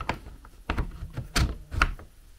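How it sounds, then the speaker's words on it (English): A wooden cupboard door in a camping gear storage build swings shut and its latch catches, a few close knocks and clicks spaced over two and a half seconds with no talk. "the door closing and the latch doing up"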